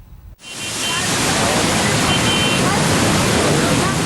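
Flooded Kosi river in Ramnagar, Uttarakhand, rushing after heavy rain: a loud, steady broadband roar of churning water that starts abruptly and holds for several seconds without a break.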